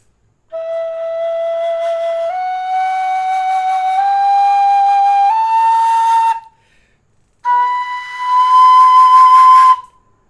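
A tin whistle plays a rising sequence of sustained notes, pausing briefly before a final higher tone, loud and close.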